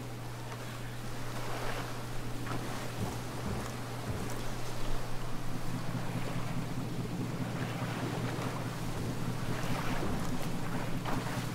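A boat's motor in the military shooter Ghost Recon Breakpoint, a steady low drone running throughout, mixed with wind rush and water spray; no talk.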